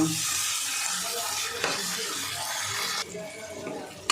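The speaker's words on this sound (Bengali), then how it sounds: "মিডিয়াম আছে আমি আলুটা কষিয়ে নেব।" Boiled potatoes being fried and stirred in spices over medium heat, a steady soft sizzle with occasional scraping stir sounds, continuous and close.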